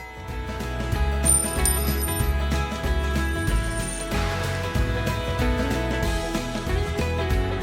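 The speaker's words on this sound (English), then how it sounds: "There's a dinner bell." A dinner bell rings on and on at Bobcat Ridge Natural Area in Colorado, its bright metallic tones tumbling in a steady, busy pattern with a close, full sound and no voices.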